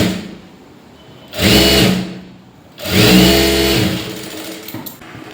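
A sewing machine stitches a lined blouse in two bursts, the first about half a second and the second over a second, each a close, loud mechanical whir separated by quieter pauses.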